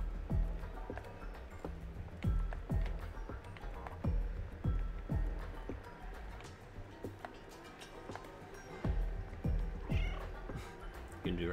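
A stray cat meows repeatedly, its cries rising and falling over a busy background of knocking and scattered sounds, with a faint voice now and then.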